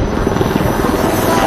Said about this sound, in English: Here we have in front of us the light combat helicopter,